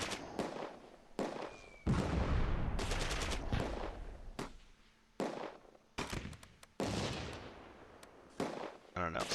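Repeated bursts of gunfire in the WWII tactical wargame Close Combat II at Arnhem, loud volleys and fusillades rising and breaking off in clusters over about nine seconds, with speech faint underneath.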